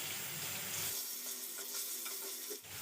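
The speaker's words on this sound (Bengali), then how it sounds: "গ্যাসের ফ্লেম লো টু মিডিয়ামে রেখে হালকা লালচে কালার করে ভেজে নেব" Potatoes fry in mustard oil in a wok over a low-to-medium gas flame, giving a steady broadband sizzle with a few soft stirring scrapes and no voices.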